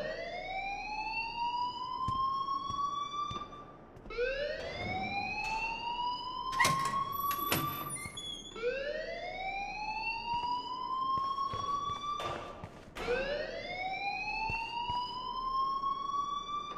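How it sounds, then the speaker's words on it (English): An alarm wails in the video game Life is Strange: Before the Storm, with four rising siren-like sweeps repeating over about seventeen seconds, steady and moderately loud with brief clatter between cycles and no speech. "please turn off that alarm since that's your job"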